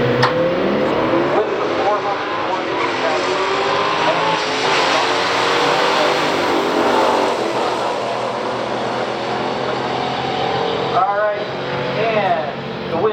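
A 1969 Dodge Dart 340 and a 1970 Pontiac GT37 run a quarter-mile drag race, engines roaring loudly and steadily throughout with crowd and announcer-like chatter mixed underneath.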